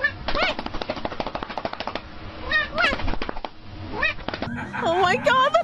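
Cat meows from a funny meme, several short cries mixed with sharp slap-like clicks and bursts of laughter, with voices talking throughout.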